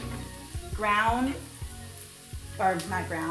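Minced garlic hisses in a pan with bursts of sizzle and a few spatula knocks, while a person talks over it in the foreground.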